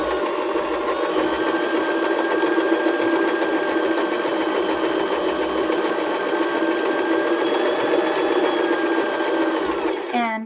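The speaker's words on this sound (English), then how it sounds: "then turn to number 3, and it will sew backwards" A BL9 sewing machine running steadily while stitching a buttonhole in reverse, with a continuous close mechanical whir and rapid needle rattle throughout that stops at the very end.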